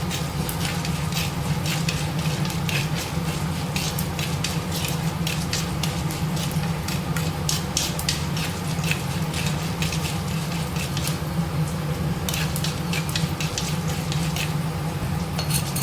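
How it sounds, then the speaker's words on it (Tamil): Cumin seeds and black peppercorns dry-roasting in a pan with a steady crackle and faint sizzle, a few light stirs and scrapes against the metal, close and continuous with no talking. "நல்லா பொரிஞ்சிருச்சு, மிளகும் நல்லா பொரிய ஆரம்பிச்சிருச்சு."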